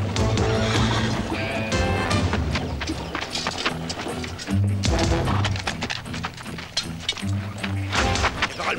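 A horse whinnies amid a dramatic orchestral score in a Western scene about the Pony Express, with hoofbeats and bursts of gunfire mixed loudly under the music.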